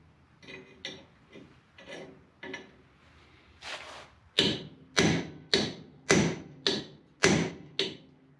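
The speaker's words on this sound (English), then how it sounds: "so I used a hammer and cold chisel to try to split it the rest of the way." Sharp metallic hammer blows on a cold chisel splitting a cast iron brake drum from a 1986 Ford Ranger, a few lighter taps first, then about eight heavy ringing strikes in a steady rhythm.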